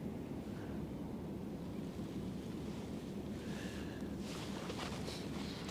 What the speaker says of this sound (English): It really sounds like a waterfall, the dredge.